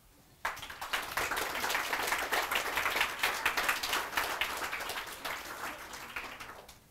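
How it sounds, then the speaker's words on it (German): Audience applause at a youth hackathon project presentation in Cologne, a steady dense clapping that starts abruptly after a short quiet moment and holds for several seconds before easing slightly. "Ein Applaus"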